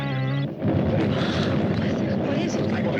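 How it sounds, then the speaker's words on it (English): A stellar explosion effect from a 1977 sci-fi film: a steady tonal hum cuts off into a loud, sustained roaring rumble that continues throughout without talk. "Mila, check the distance of the stellar explosion"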